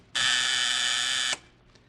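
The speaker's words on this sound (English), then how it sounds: "did you just want to see if the buzzer works?" A door buzzer in a vintage radio detective drama gives one loud, steady electric buzz lasting just over a second, then cuts off abruptly into quiet.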